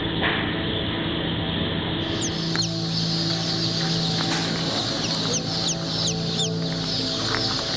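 Chickens at Australia's largest egg hatchery cluck in a continuous, busy chorus, with high, quick chirps repeating over the steady low clucking.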